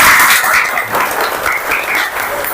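Children in a Hindu religion class clap their hands together, a close, loud burst of fairly uneven clapping that carries on throughout.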